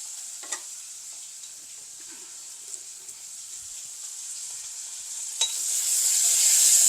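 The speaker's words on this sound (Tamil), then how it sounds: "இதில் பூண்டு ஒரு அரை பல் பூண்டு எடுத்துருக்குறேன் ஒரு பாதி வெங்காயம் எடுத்துருக்குறேன் பச்சை மிளகாய் ஒரு மூண்டு இது இதெல்லாம் கொஞ்சம் பொரியட்டும்" Garlic, half an onion and a few green chillies fry gently in a pan with a thin, hissing sizzle that grows louder near the end, along with a couple of light spatula taps; no speech.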